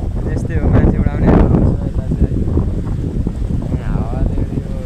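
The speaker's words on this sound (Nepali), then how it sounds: "हावाले गर्दा केही सुनेको छैन" Strong wind batters the microphone outdoors at a village herders' shelter in the hills, making heavy, gusting low buffeting that swells and fades, with a voice faintly talking underneath.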